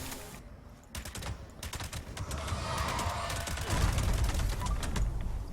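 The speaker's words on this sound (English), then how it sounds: "We just keep on mag dumping her in the face" Rapid, sustained gunfire from a Prime Radium Rifle with a fire-rate build in Fallout 76 during a boss fight against the Queen, loud, dense and continuous over a rumbling background.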